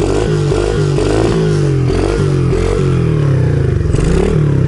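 A motorcycle engine revs hard on an uphill ride, close and loud, its pitch rising and falling in repeated throttle surges over a rough rattle of the bike.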